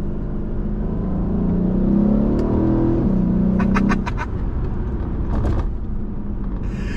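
A Mercedes-AMG E63 sedan engine rumbles at idle, swells into a short rev, then drops back to a steady low burble, with a few sharp clicks near the end.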